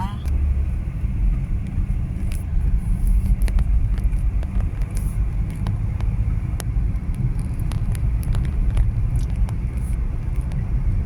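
A car driving along a road, a steady loud engine and tire rumble with broadband road noise throughout, and someone talking over it at times.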